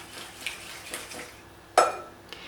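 Yogurt and butter stirred in a bowl for a savory zucchini and cheese cake, soft scraping strokes with light utensil taps and one sharp clink against the bowl, close and fairly quiet.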